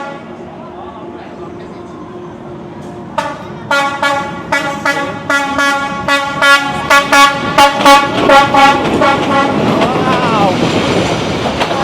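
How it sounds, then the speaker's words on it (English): Train passing very close by a railway track in Vietnam, a loud horn blaring in a rapid series of blasts over rumbling wheels, with a person exclaiming in surprise. "You can hear the train."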